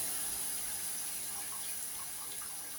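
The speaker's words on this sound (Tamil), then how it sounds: "புளி தண்ணி ஊற்றணும்" Tamarind water pours steadily into a pan, a continuous close splashing and trickling with no talking.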